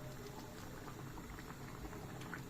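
A zucchini dish with butter simmers in a pot, a soft continuous bubbling and popping heard faintly and up close.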